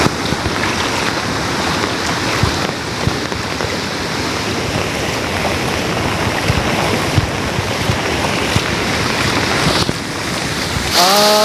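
Heavy monsoon rain pours down on a village at night, a loud, unbroken wash of rushing water and wind-buffeted noise close to the microphone, steady throughout with no voices.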